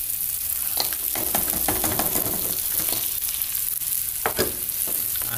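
Tempeh and green chili stir-fried with palm sugar in a pan, a steady close sizzle with scraping stirs and clacks of a utensil against the pan throughout.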